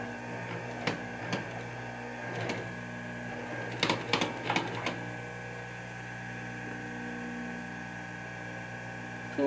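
A sewing machine topstitches a waterproof zippered pouch, giving a faint, steady mechanical hum with a few sharp clicks and short bursts in the first five seconds, then settling into a quiet, even drone.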